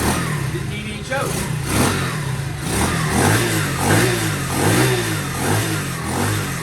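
A Honda CT70 motorcycle engine runs just after a kick start, a steady mid-pitched buzz with small rises and falls in revs, close by, while a person talks over it.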